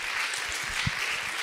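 An audience applauding at a French literary event, heard as a dense, steady wash of clapping throughout the short stretch.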